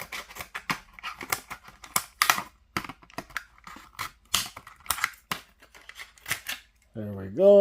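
Scissors snip through a Hot Wheels blister card for a 1956 Corvette in a series of sharp, close clicks and crunches, followed by a brief rising whine at the end.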